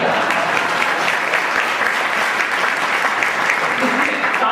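An audience at a spiritual discourse gathering claps loudly and steadily, a dense continuous applause throughout.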